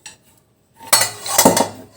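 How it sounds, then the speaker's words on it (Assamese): A pressure cooker of cooked dal is opened: after a short clink and a moment of quiet, a loud metallic clatter of the lid comes close up, followed by scraping and rattling of the pot. "এতিয়া প্ৰেছাৰ কুকাৰটো খুলিব পৰা হৈছে।"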